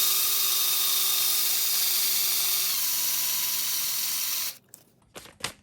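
Cork being sanded with 220-grit sandpaper by a rotating tool, a steady high whine that drops slightly in pitch partway through and then cuts out, followed by a few faint clicks.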